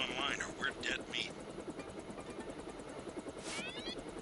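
A stealth helicopter in Deus Ex drones steadily with a low, constant engine hum and a faint whine, mixed with scattered game sounds.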